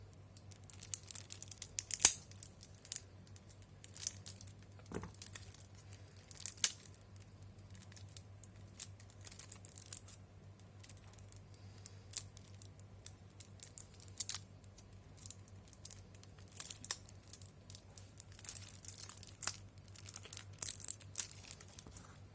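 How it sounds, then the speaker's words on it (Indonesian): Plastic shrink wrap on a DMBD-13 Chronicle Final Wars Duel Masters card deck being cut and torn open, with sharp snips and crinkling bursts over a steady low hum, close and fairly quiet. "Kita akan buka plastiknya sebentar."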